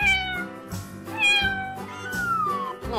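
A cat meows several times in drawn-out, whiny cries within an animal painting game, close and clear with short gaps between calls.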